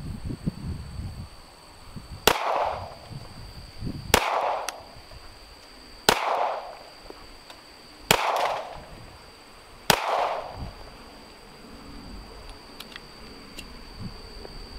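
An FN 503 Compact 9mm pistol fires 147-grain rounds at a steel target: five sharp, loud reports spaced about two seconds apart, each followed by a brief ringing tail, with no talking.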